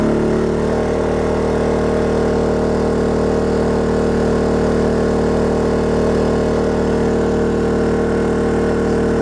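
A Black Diamond inverter generator runs at high RPM with a loud, steady, even engine drone that carries on alone for the whole stretch.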